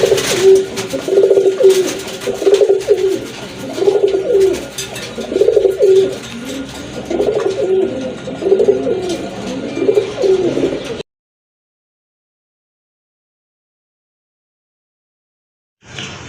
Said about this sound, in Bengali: অসাধারণ এক জোড়া কবুতর